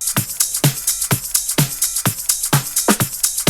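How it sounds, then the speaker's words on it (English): A busy looping pattern of hi-hats and light percussion ticks and shuffles at a quick, steady groove, bright and continuous, with no voices. "We then just pretty much have some top loops,"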